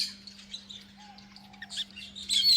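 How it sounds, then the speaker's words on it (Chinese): Small birds chirp and tweet in short bursts close by, including a yellow-headed bird calling and a young bird answering, with a steady low hum running underneath. "听到附近有黄头鸟的叫声"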